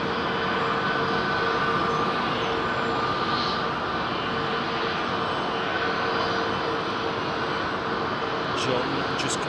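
A large airliner coming in to land at London Heathrow Airport, its engines producing a steady, loud broadband roar that holds constant throughout with no break or pause.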